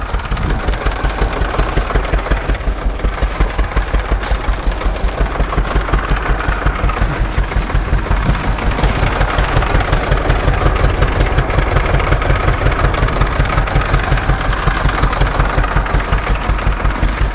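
An Ursus tractor engine idles close by with a steady, loud, rapid knocking throb that keeps an even rhythm throughout, with no voices.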